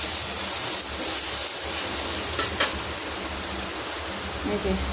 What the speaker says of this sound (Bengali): তিনটে সাড়ে তিনটার থেকে এরকম তুমুল বৃষ্টি হচ্ছে